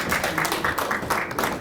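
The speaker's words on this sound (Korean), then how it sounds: "큰 박수 한번 부탁드리겠습니다." Audience applause at a welcoming ceremony for newly recruited figures, a dense steady wash of many hands clapping with a faint pulsing rhythm, close and fairly loud, no voices.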